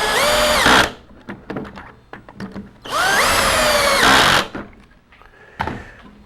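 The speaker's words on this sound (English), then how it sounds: "we can simply hold it in position while we drive the screws in" A power drill drives self-tapping screws into a pocket hole joint in a wood rail, in two loud sustained bursts, with quiet handling knocks and clicks in between.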